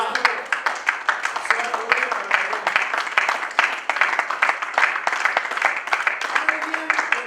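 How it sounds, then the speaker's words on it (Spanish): A church congregation applauds together, a dense, lively burst of many hands clapping with rhythmic peaks, fairly loud and close, with voices mixed in. "Denle un aplauso"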